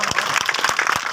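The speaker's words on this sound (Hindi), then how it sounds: "अब आप सब लोग इनके लिए ताली बजाओ" A crowd claps at a gathering at a railway station, loud and close, with a few distinct hand claps standing out over a dense, continuous burst of applause.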